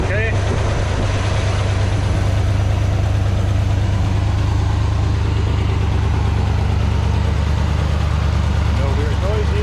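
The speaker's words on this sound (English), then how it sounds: "So we're going to give her a crank and see what happens." An old Chevelle engine idles loud and close in a steady low rumble with a slight exhaust leak, and a voice speaks over it.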